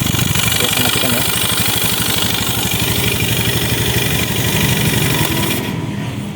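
A Honda BeAT eSP scooter with a fault code runs at a close, steady idle, its rapid engine pulses even and loud, then it cuts off and falls silent near the end.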